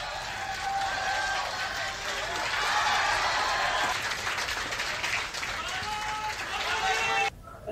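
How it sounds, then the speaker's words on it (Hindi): Students and teachers at IIT Patna break into sustained applause and cheering as the Chandrayaan 3 lander touches down on the Moon, loud crowd clapping throughout with voices mixed in before cutting off near the end. "आईआईटी पटना में तालियों की गड़गड़ाहट होने लगी"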